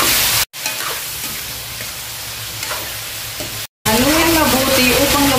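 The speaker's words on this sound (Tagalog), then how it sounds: "Haluin mabuti upang lumabas ang taba ng karne nito" Half a kilo of salted, peppered chicken is stirred and fried in a pan for caldereta, giving a loud, dense, continuous sizzle with scraping stirs, cut by two brief silences, and a voice is heard near the end.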